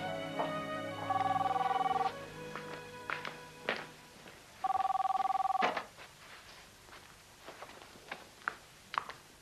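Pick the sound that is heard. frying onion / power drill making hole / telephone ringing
telephone ringing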